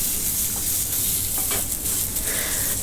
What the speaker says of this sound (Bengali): এরপর আমরা পেঁয়াজ কুচিগুলো সুন্দর গোল্ডেন কালার করে ভেজে নিচ্ছি।